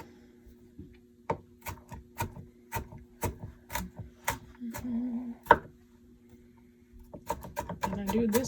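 A knife chops garlic on a wooden cutting board in a series of sharp, evenly spaced taps, close and crisp, with a short pause before a quicker burst of chopping.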